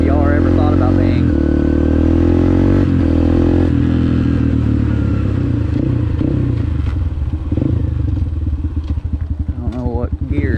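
A dirt bike engine, a four-stroke noted as punchier than a 150R, idles and runs steadily close by, with rising revs and mechanical clatter over most of the stretch while a voice talks at times.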